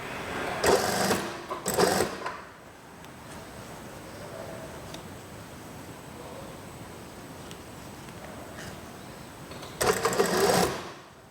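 A sewing machine stitches a child's half-circle dress, running in two short loud bursts at the start and another near the end, with a steady low room hum between the runs.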